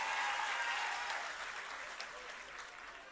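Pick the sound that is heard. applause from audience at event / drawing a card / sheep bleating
applause from audience at event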